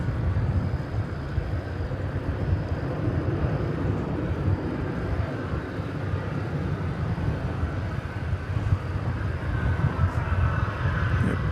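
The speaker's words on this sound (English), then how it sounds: "an Airbus A321 is off to Guadalajara in Mexico." A Volaris Airbus A321 bound for Guadalajara passes by at DFW Airport, producing a broad, steady rumbling roar at moderate distance that stays even throughout.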